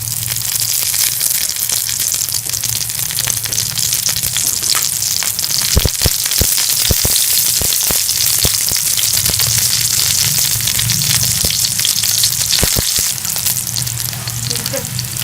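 Makki roti, a corn flour flatbread, sizzles steadily in ghee on a hot griddle, a loud continuous frying hiss with occasional sharper crackles and pops, with no talking.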